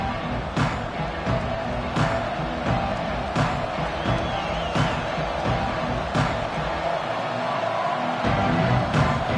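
A packed football stadium crowd at a USC game cheers and roars continuously, a loud sustained wall of noise with sharp claps and whoops poking through, commentator talk underneath.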